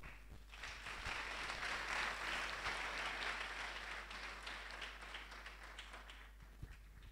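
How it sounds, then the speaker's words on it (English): Students at a school commissioning ceremony for exam candidates applaud together, a steady, full burst of clapping that carries on for several seconds over a low hum, with only faint voices beneath. "Let us clap for the Almighty God."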